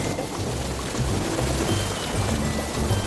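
Steady rainfall, a dense even hiss of drops with a low rumbling undertone, continuous and moderately loud, with no voices heard.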